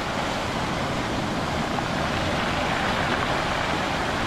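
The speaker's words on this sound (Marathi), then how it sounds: "आज ना भरती लागलेली आहे खूप जोरात. या दगडांपर्यंत पाणी टच होत आहे." Strong high-tide sea waves wash against shore rocks during heavy rain at Gorai, Borivali, a loud, continuous roar of surf with wind noise throughout.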